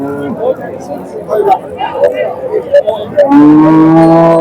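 A Punganur cow lets out a long, loud moo at the end, after a stretch of busy chatter and crowd noise at a Punganur cattle market.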